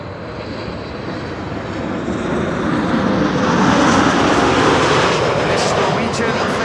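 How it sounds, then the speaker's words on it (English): A Norwegian Boeing 737 MAX 8 arriving from Oslo at Amsterdam Schiphol passes with a dense, loud jet roar that swells steadily over several seconds and stays strong to the end. "This is Norwegian, flight 1256, arriving from Oslo. That's a MAX 8 737."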